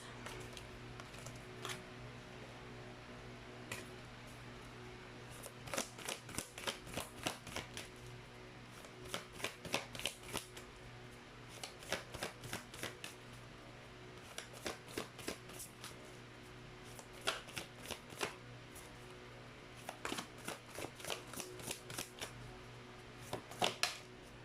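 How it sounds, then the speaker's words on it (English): Tarot cards are shuffled in repeated quick riffling bursts, close and crisp, separated by short pauses over a faint steady hum. "let's try to pull up more cards."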